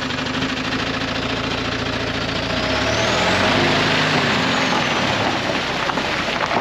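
A new camper truck's engine idles nearby on a wet early morning, a continuous low diesel rumble with a faint rise and fall in pitch partway through.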